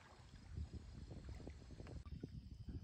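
A canoe is paddled on Quechee Lake near Hartland, Vermont, with faint, soft water strokes and splashes over light wind noise.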